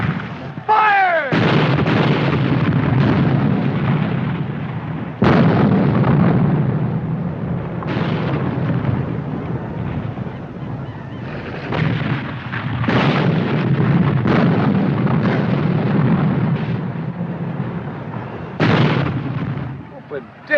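Civil War battle with artillery cannons firing repeatedly, heavy booms and rumbling blasts spaced irregularly across a loud, continuous din, with shouting voices mixed in.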